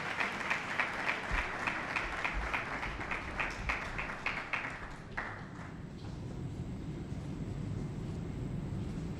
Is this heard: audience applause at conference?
yes